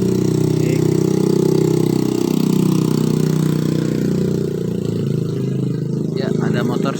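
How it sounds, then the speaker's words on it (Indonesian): A motorcycle passes along the roadside, its engine a loud, steady drone that fills the whole stretch and eases off slightly toward the end, with no voices over it. "ada motor sedikit ya lewat di pinggir jalan ya"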